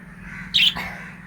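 Pet lovebirds in a cage at home give a single sharp, shrill squawk, near and loud, followed by a softer trailing call over quiet room background.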